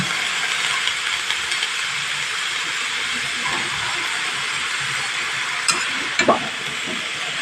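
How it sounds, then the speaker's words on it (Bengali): Cabbage fries in oil in a pan, giving a steady broad sizzling hiss close by, with a few brief clinks of a utensil near the end. "আমি এখানে তেলের ওপরেই দিয়ে দিলাম দিয়ে একটু ভাজা ভাজা করে নিয়ে মশলা গুঁড়ো দেব"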